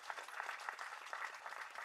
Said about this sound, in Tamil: அவருக்கு ஒரு கைத்தட்டு தட்டலாங்க.